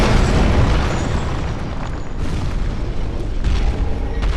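An exploding bolt detonates in the game Dark Souls III, producing a loud, sustained rumbling boom that fills the clip and swells again toward the end.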